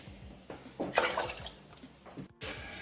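Water is poured into a cooking pot to boil rice, giving uneven splashing and liquid rushing with a few light clinks of metal, close and moderately loud, with no talking.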